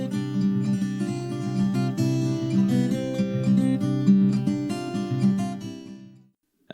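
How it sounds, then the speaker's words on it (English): A guitar melody played in a bedroom, a steady stream of plucked notes over low sustained tones, fairly dry and close, ending with a brief silence. "Here is a sound of the guitar played in a bedroom."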